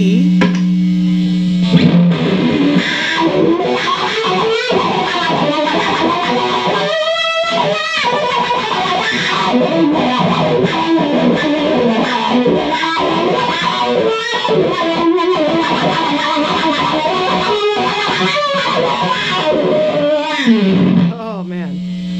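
Electric guitar played through a Dano-Wah DW-1 wah pedal with heavy distortion, riffing in a 70s rock style in F, loud and continuous for over twenty seconds.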